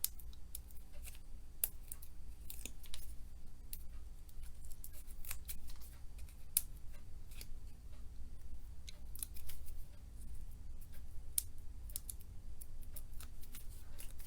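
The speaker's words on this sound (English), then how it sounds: "I think I'm going to cut this in half with my little paper snips" Small paper snips cutting cardstock for a floral and butterfly thank-you card, giving a steady run of crisp, close snipping clicks across the whole stretch with no talking.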